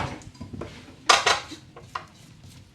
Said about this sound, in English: So I'm just gonna scrape off the paddle.